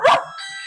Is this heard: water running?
no